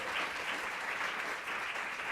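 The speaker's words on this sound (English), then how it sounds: "please giving a round of applause for Mr." Audience applause at a speaking event, a steady wash of clapping from a crowd of listeners, moderately loud and continuous, with no talk.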